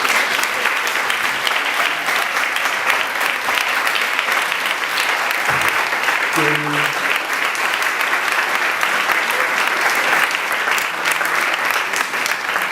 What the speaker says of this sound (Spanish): pedimos un fuerte aplauso para Carlos Reigada